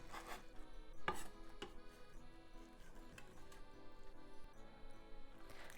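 A knife chopping fresh spinach on a cutting board in a home kitchen, a few crisp irregular cuts close up with a sharper knock near the start, under a faint background hum.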